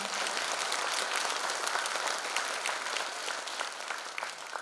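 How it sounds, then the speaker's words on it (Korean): A crowd at a legislator's public report meeting in Jungnang-gu gives a big round of applause for lawmaker Park Hong-geun, dense steady clapping that fills the room and tapers slightly toward the end. "여러분 박홍근 의원님께 다시 한번 큰 박수 부탁드립니다"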